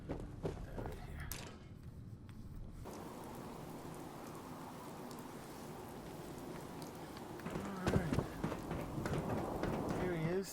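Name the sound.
rain in Fallout 4 video game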